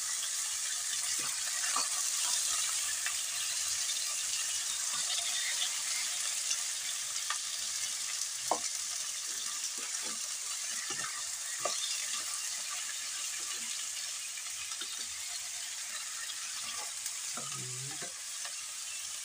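Chicken pieces for chicken curry frying in a pan, giving a steady loud sizzle throughout with occasional clinks and scrapes of stirring, no talking.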